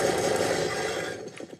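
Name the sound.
Counter-Strike gunfire from the video game through built-in computer speakers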